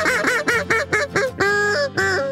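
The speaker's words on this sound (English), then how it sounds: "They're liking the duck call, you wanna keep them, so just stay in them with those calls." A Fiocchi duck call blown in a rapid series of loud, close quacking notes, six short clipped calls followed by two longer drawn-out quacks, with no talking over it.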